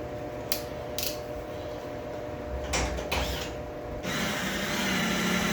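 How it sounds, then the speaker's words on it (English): A power drill bores holes in the sheet metal of a custom firewall for a chassis-swapped 1938 Ford truck, a low steady whir broken by a few short sharp bursts of grinding and clatter, ending in a rougher sustained drilling sound. "I'm going to put a couple of holes here in the sheet metal."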